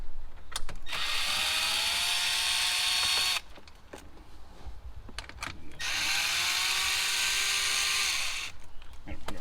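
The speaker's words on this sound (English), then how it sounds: "we're going to undo this screw" A power drill backs screws out of a car dash panel during an Acura TL stereo install, with two close whirring bursts of a few seconds each separated by clicks and handling noise.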